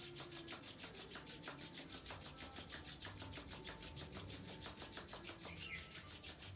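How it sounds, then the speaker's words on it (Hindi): Two palms rubbed briskly together, making a steady, rhythmic dry swishing that repeats quickly and evenly, close and alone. "Just rub your both palm"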